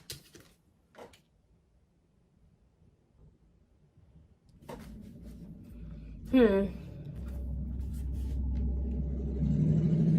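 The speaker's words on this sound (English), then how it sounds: "Sorry guys, loud truck." After near silence, a deep engine rumble swells and stays loud as a heavy truck rolls past close by, with a brief voice partway through.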